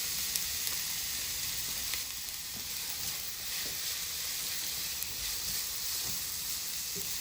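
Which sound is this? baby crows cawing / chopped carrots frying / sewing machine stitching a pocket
chopped carrots frying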